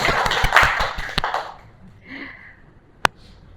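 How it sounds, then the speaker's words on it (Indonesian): Class participants clap for a presenter in a brief, scattered burst of applause that fades out within about a second and a half, followed by near quiet, a faint murmur and one sharp tap. "Boleh kasih tepuk tangannya."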